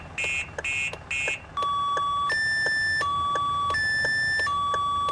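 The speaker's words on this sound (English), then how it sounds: "Seems to be a car alarm going off in the background." A 1990s-style car alarm in Bus Driving Sim 22 starts with three short warbling bursts, then alternates between two sharp electronic tones in a steady, repeating loop, loud and clear with no talking.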